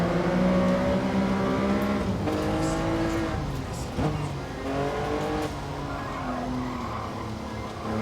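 Car engine in the racing game Gran Turismo, played on a PS5 Pro: a steady, loud engine drone that rises and falls in pitch through gear changes, with a brief tire squeal around the middle and no talking.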